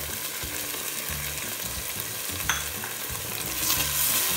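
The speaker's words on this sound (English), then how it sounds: "We're going to just let this mixture cook for a bit." Gobi Manchurian sauce mixture with ground pepper cooking in a pan, giving a steady close sizzle with scraping stir strokes and a brief clink midway, no talking.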